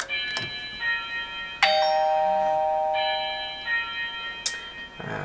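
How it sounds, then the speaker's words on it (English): A wireless doorbell rings out a bright electronic chime melody, ringing tones overlapping and fading, with a few soft clicks around it. "what you should hear is the standard wireless doorbell"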